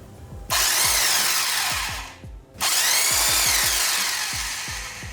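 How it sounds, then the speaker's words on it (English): An impact wrench works a motorcycle damper rod bolt in two loud, sustained bursts of whirring, rattling hammering with a brief pause between them. "use the impact wrench to try to loosen it up, and then maybe it'll come loose"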